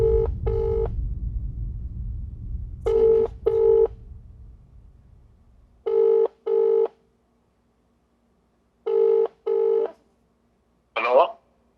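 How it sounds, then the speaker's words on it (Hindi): A telephone number is dialed on a phone keypad: clear paired touch-tone beeps come in four quick bursts after a fading low rumble, followed by a brief warbling chirp as the call connects. "पिताजी को फोन लगाया जाए"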